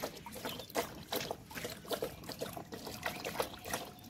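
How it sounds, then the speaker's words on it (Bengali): Two pet dogs lap drinking water with quick, uneven wet slurps and splashes, close and fairly soft, in short irregular bursts without talking. "দেখছেন কিরম জল খাচ্ছে"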